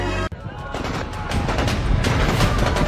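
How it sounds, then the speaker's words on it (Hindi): Gunfire aimed at protesters in Rawalakot, Pakistan-administered Kashmir, during deadly clashes over elections: a dense, continuous crackle of shots and loud outdoor noise, with a sharp break near the start and no clear speech. "पीओके के रावलाकोट में प्रदर्शनकारियों पर चल रही गोलियों की ये सबसे नई तस्वीर है"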